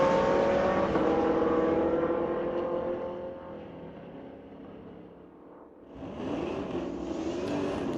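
Drag race at a street-legal strip between a 2017 Camaro and a 2006 Jeep Cherokee, engines roaring loud at first, fading as the cars pull away, then another engine surging back up nearby.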